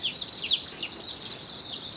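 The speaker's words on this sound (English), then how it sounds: "So now we have 20 baby chicks." Twenty baby chicks, including black Australorps, peep continuously, a dense chorus of high, thin chirps close by and fairly soft.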